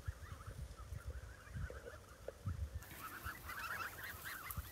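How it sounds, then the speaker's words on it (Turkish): Geese of a fine breed, kept with goslings, honk repeatedly in short nasal calls that overlap and grow louder toward the end, close by with no talk. "Ne kadar güzel bir kaz ırkıdır ki bu."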